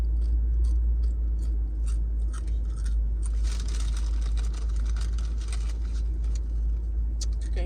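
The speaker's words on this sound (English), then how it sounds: "the crunch of these chips." Crisp, repeated crunching of Lay's potato chips being chewed close to the mic in a subway car, sharp bursts over a steady low rumble of the moving train.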